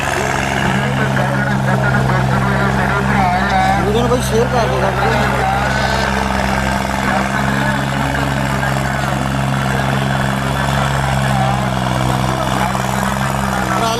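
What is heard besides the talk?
New Holland tractor engine in trolley pulling contest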